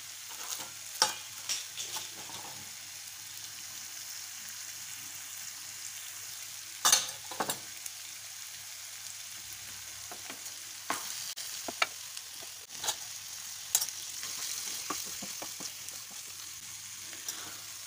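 Paneer with garam masala sizzles quietly in a pan while being stirred, with a soft steady frying hiss broken by intermittent scrapes and clinks of the spoon.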